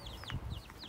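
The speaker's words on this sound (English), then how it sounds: "I was just thrilled to death to be able to find these little chickens" Young chicks about a month old, egg-laying breed, cluck and chirp softly in quick, overlapping bursts, close by and fairly faint, with no talking.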